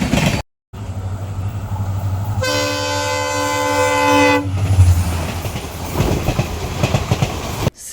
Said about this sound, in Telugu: సిగ్నల్ వచ్చాక మన ట్రైన్ తిరిగి బయలుదేరింది